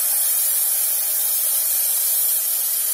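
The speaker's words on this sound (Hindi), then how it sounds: "प्याज को हल्का गोल्डन होने तक हम भून लेते हैं।" Chopped onion with ginger garlic paste frying in oil hisses and sizzles steadily, a bright, dense crackle with no break and no voice.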